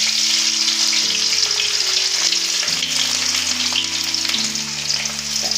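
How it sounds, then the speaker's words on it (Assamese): Chopped onions sizzle loudly in an oiled pan for egg chowmein, a bright constant hiss with steady crackle, while a low mechanical hum shifts pitch in the background throughout. "প্ৰথমতে মই কাটি থোৱা পিঁয়াজখিনি দি লৈছোঁ"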